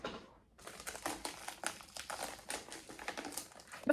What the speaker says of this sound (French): j'ai enfin réussi à sortir l'équerre de son fameux plastique